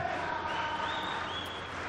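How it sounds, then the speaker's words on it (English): An arena crowd roars and cheers at a jiu-jitsu match, a steady dense wash of many voices kept at a distance with no single voice standing out. "see the Novo crowd going crazy back there for Marcio"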